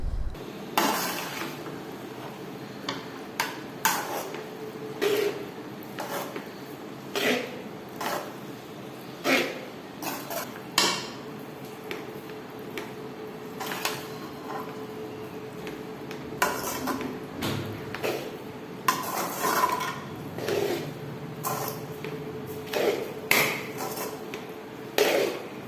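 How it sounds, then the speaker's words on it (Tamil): Pasta coated in paste is stirred in a pan, giving a long run of irregular scraping knocks and clinks of a spoon against metal over a steady faint background, with no talking. "இப்பொழுது நன்றாக கிண்டி விட்டுக்கிட்டுருக்கோம்."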